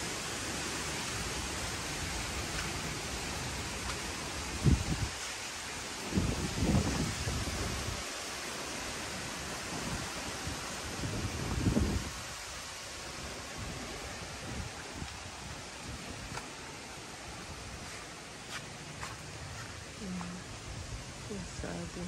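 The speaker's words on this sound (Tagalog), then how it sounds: "malakas ang hangin." Strong wind on a rural afternoon in the province, a broad continuous rushing roar with gusts buffeting the microphone, loud and close, with occasional faint voices underneath.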